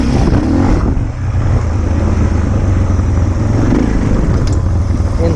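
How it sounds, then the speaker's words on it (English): A Suzuki DR650 single-cylinder motorcycle idles along at walking pace with no clutch, its loud, steady low engine thrum continuing throughout with a small dip early on. "You can kind of let it just idle along here now."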